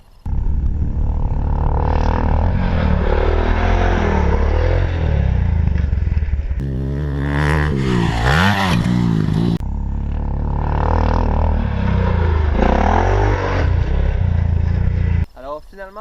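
Motocross motorcycle engine revving and roaring under riding, steady and loud throughout, with throttle surges and a sharp rising rev in the middle, close to the listener.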